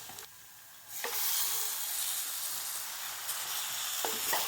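Meat curry sizzles and fries steadily in a pan as it is stirred, a continuous bright hiss with a few soft scrapes, close and fairly quiet, with no voices.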